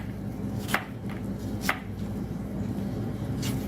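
A knife dicing an onion on a cutting board, about four sharp chops at irregular intervals over a low steady room hum, close and clear, no voices.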